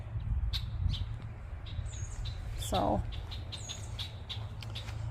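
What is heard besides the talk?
birds chirping in a garden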